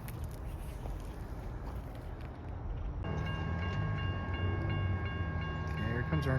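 Rumbling CSX or Norfolk Southern freight train passing nearby, a low rolling roar that swells louder partway through, with faint tonal whine over the rail noise.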